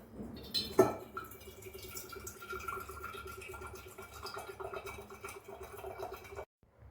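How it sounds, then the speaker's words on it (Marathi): Water trickles and drips out of a tender malai coconut into a container, a thin steady pouring sound with faint gurgles that ends abruptly. "आपण नारळामधलं पाणी काढून घेऊ पहिले"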